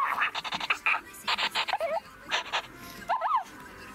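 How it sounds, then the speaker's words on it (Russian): Electronic yips, whimpers and panting noises from a toy puppy, coming in short repeated bursts, close by and fairly loud. "Интерактивный щенок?"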